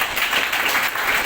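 An audience claps for a child storyteller at a student skills event, a brief burst of dense, even applause.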